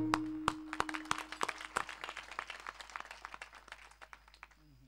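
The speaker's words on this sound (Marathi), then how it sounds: "टाळी दिली, धन्यवाद" An audience at a kirtan by Pradeep Maharaj Nalawade claps in a brief round of applause, sharp claps at first that thin into scattered, fading claps, fairly quiet and without voices.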